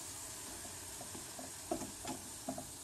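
Cake pieces frying in hot oil, a steady close sizzle and hiss with soft bubbling pops and a few stirring or dropping sounds as pieces go in.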